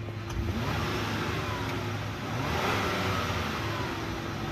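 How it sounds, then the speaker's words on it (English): A 2006 Mercury Mariner Premier engine runs steadily with a broad rumbling roar, rising slightly as it revs partway through. "I'll let you listen to the engine now"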